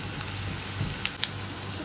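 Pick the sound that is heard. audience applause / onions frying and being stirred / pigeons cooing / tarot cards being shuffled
onions frying and being stirred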